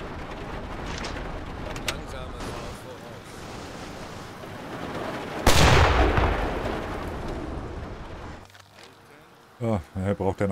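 A heavy submarine deck gun on U-564 booms once in the video game UBOAT, amid a steady rushing roar of sea and engine in rough weather, followed by a voice speaking briefly.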